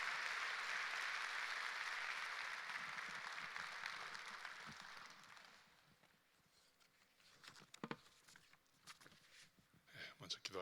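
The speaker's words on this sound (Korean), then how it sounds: "우리 목사님 나오실 때 우리 뜨겁게 한 번의 박수로 우리 환영하시고" A church congregation applauds to welcome the pastor at a Sunday worship service, a dense, steady wash of clapping for about five seconds that then fades into quiet room noise with a few scattered claps and shuffles.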